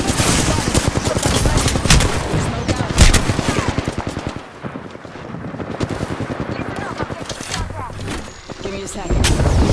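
Heavy automatic gunfire in the battle royale video game Apex Legends, sustained rapid bursts with loud impacts and explosions, with players talking over the action.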